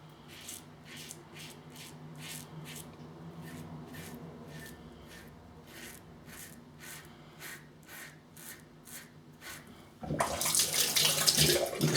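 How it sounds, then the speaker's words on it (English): A single edge razor rinsed under a running tap: about ten seconds of soft, rhythmic scraping strokes, then a loud, steady rush of water for the final two seconds, with no voices. "With a single edge razor, I said this is the last thing, you have to remember to keep rinsing it."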